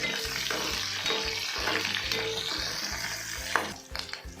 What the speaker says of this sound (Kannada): ಸ್ವಲ್ಪ ಆನಿಯನ್ನು, ಇದನ್ನೆಲ್ಲ ಫ್ರೈ ಮಾಡ್ಕೋಬೇಕು.